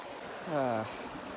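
Steady, soft rushing of water flowing in a creek, with a brief voice rising over it halfway through.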